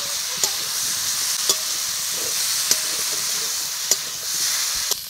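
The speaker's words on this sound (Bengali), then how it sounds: "এবার দিয়ে দেবো ভেজে রাখা পটল ও আলু। ভালো করে কষিয়ে নিচ্ছি।" Pointed gourd and potato frying in a spice paste, a steady broad sizzle with periodic sharp clicks and scrapes of a spatula against the pan, close and moderately loud.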